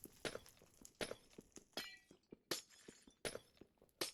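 Glass blocks shatter one after another in Minecraft as a wall corner beside train tracks is torn down, sharp crashes repeating about every half to three-quarters of a second with soft thuds between them, close and with no voices.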